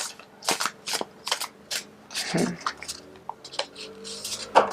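Tarot cards shuffled and pulled from a deck, a close series of crisp riffling slaps and soft papery flicks in an irregular rhythm, with no talk over them.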